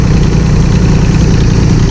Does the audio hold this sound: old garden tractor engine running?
yes